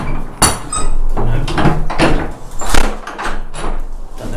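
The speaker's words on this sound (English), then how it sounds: "Shut the door." A church door being shut, with loud wooden knocks, thuds and scraping of the heavy door and latch over several seconds, close by.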